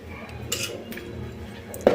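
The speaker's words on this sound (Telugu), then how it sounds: "కాబట్టి 1 స్పూన్ వేసేసి నేను అందులో కలిపేస్తున్నాను" A spoon scrapes and clinks against a metal pot as custard powder is stirred into payasam, soft intermittent taps with a sharper clink near the end, close and quiet.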